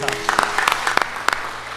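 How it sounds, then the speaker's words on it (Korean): A big round of applause from a congregation at a Sunday worship service in a Methodist church, brief scattered claps under a prominent voice, with a faint sustained tone in the background. "다시 한번 큰 박수 하겠습니다."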